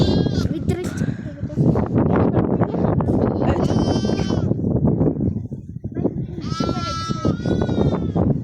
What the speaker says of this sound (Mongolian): Одоо ишиг хургуудаа та нарт харуулъя.